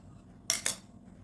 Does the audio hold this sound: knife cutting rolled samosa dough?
yes